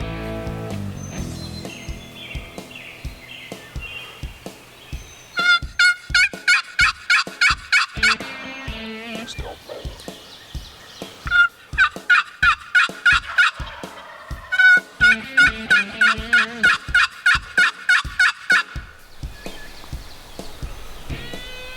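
A big wild longbeard turkey gobbles repeatedly at close range during a spring hunt in Pennsylvania, with several loud, rapid rattling gobble bursts separated by pauses and a steady rhythmic thumping underneath.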